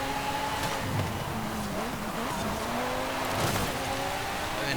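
A Lamborghini Huracan in Forza Horizon 5, its engine droning at a steady mid-level with gear shifts and rising and falling revs, overlaid by tire squeal and skidding, continuous and fairly close.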